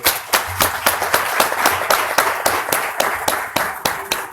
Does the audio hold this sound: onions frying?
no